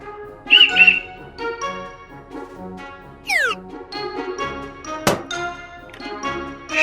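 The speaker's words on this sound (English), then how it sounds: "Plastic toy whistle." A yellow plastic toy whistle gives a quick shrill warbling blast, among other bright toy beeps, sweeps and clicks close by.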